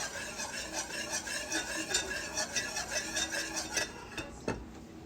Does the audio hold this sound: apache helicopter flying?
no